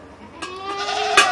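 A Nubian goat bleats during milking, one close, wavering bleat that swells and then ends in a sharper cry, heard alone in a quiet space.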